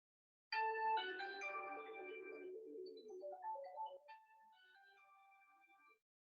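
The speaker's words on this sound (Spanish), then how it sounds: "sonó mi teléfono" A mobile phone ringtone plays alone: a bright melodic jingle of stacked tones, louder for the first two seconds, then a quieter second phrase that continues to about six seconds, heard in a classroom setting.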